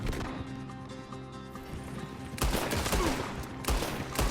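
Gunfire in the video game Red Dead Redemption 2 during a shootout in town, starting with muffled background action and then bursting into loud rapid overlapping shots in the second half.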